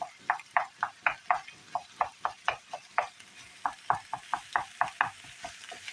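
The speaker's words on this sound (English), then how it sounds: "Just keep breaking it up, and we're reducing these onions." Onions cooking in a pan being stirred and broken up, a quick regular run of spoon scrapes and taps against the pan, about three or four per second, close and crisp over a faint sizzle.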